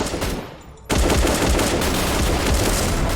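Rapid automatic gunfire from the shooter game Bullet Angel starts abruptly after a quiet moment and rattles on continuously and loudly.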